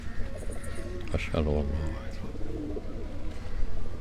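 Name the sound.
pigeons cooing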